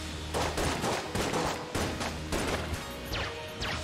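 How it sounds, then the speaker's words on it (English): Rapid video game gunfire and explosive blasts from a rocket launcher in Enter the Gungeon, loud repeated bursts and crashes in quick succession with no voices. "I keep hitting that. That dang rocket launcher."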